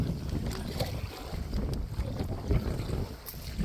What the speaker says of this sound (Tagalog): Salubong pa natin yung hangin.